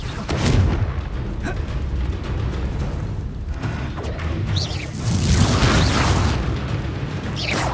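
Blasting-spell explosions in the Hogwarts Legacy video game on PS5, a run of heavy booms and rumbling impacts with crackling bursts, loud and continuous over dense game noise.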